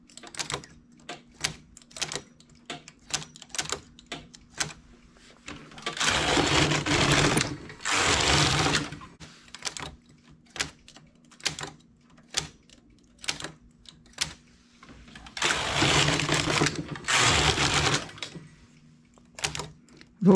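A knitting machine carriage slides across the needle bed in two long, rasping passes, separated by sharp, rapid clicks of needles and levers being set by hand, all close and without talk.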